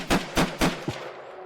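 Four sharp video game gunshots in quick, even succession, loud and close, the last one softer, followed by a fading tail.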